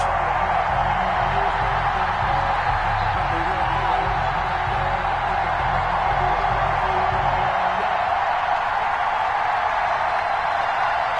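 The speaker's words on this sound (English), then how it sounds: "This crowd is ready as their guys get set to match up between the Minnesota Vikings and the New York Giants." A stadium crowd in an EA Sports football game before a Minnesota Vikings versus New York Giants matchup, a dense, steady roar of cheering that holds evenly throughout, with a faint low tone underneath.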